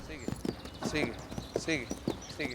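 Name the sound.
horse hooves clip-clopping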